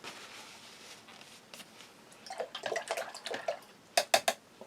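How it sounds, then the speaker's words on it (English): A spoon is rinsed under water, with faint splashing and trickling followed by a run of clinks and taps of metal against a dish that end in three sharp knocks, and no talking. "And I'm going to clean the spoon."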